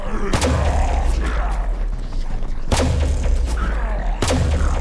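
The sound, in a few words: video game audio cue when shooting light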